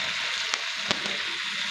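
Spices such as chilli powder, garam masala and coriander powder fry in oil with salt for a cashew chicken fry, giving a loud steady close sizzle broken by a couple of brief clicks from stirring, with no talking.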